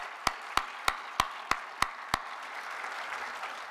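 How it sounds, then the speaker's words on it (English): Audience applause at the 2013 South Dakota Governor's Awards in the Arts: seven sharp, evenly spaced claps from one nearby pair of hands lead, then a softer, steady wash of crowd clapping continues in the background. "give yourself a round of applause."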